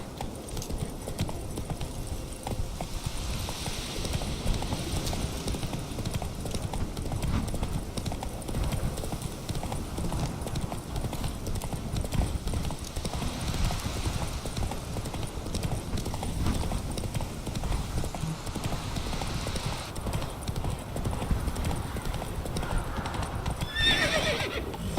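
In The Witcher 3, a horse's hooves clip-clop in a rapid galloping rhythm throughout, with whinnying neighs mixed in over a steady background of wind and game ambience.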